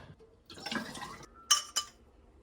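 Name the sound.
taking a liquid sample of hard cider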